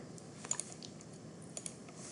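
A computer mouse clicks while shapes are edited in CorelDraw, giving a few soft, close clicks in two quick pairs over a low room hiss, with no talking.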